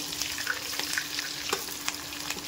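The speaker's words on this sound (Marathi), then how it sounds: "थोडेसे रोस्ट करून घ्यायचं आहे, कसं लालसर होईपर्यंत" Ingredients for pulao roast in a pan until reddish, giving a short, steady sizzle with soft stirring scrapes close by.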